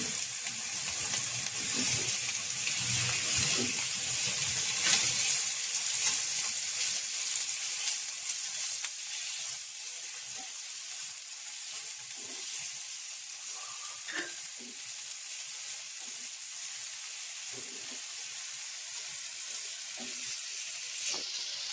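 Chili and tomatoes sizzle and hiss in a frying pan for Rava uttapam, loud and bright at first, then easing into a softer crackle with occasional stirring scrapes.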